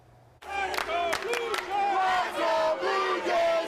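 A baseball crowd of Blue Jays fans at T-Mobile Park in Seattle, loud cheering and rhythmic chanting that bursts in abruptly and keeps swelling in repeated waves.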